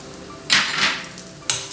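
Urad dal sizzles in hot oil in a pan over a medium flame, with two sharp bursts of frying and stirring as a utensil scrapes through the lentils.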